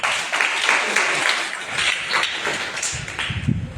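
Audience applause at a church gathering, a moderate crowd clapping steadily throughout with a few sharper claps standing out near the end.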